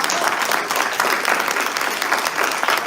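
Audience at a labour law congress claps steadily and closely for about three seconds, a dense, even applause with no break.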